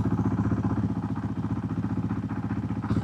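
A 2024 Honda CRF450RL single-cylinder engine idles steadily up close, a rapid, even putter with light mechanical clatter and no voices throughout.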